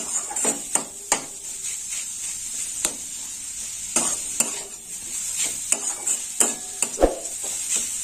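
Carrot malpoa fried in a pan, a bright continuous sizzle broken by sharp spatula taps and scrapes at irregular intervals, close and fairly loud with no talking.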